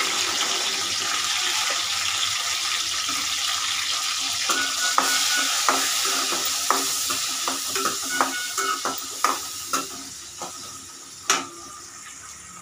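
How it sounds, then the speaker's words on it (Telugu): Thin tomato slices with turmeric fry alongside green chillies and garlic for a fish curry, giving a steady close sizzle with occasional scraping stirs and utensil knocks that grow more frequent toward the end. "పచ్చిమిర్చి వెల్లుల్లి కొంచెం ఫ్రై అయింది కదా, ఇప్పుడు ఇందులో ఒక పెద్ద టమోటాని సన్న స్లైస్గా కట్ చేసి యాడ్ చేసుకుంటున్నాను"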